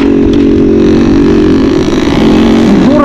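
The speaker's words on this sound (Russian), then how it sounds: "это обычный эндуро мотоцикл" An enduro motorcycle engine runs loud and close in deep winter snow, holding a steady rumbling drone before its pitch dips and rises again near the end.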